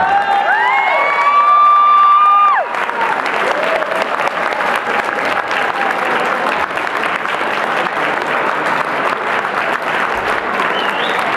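Crowd applause and cheering with whoops for a dancer at a Czech graduation pre-dance, erupting as music cuts off and continuing as loud, steady clapping with shouts throughout.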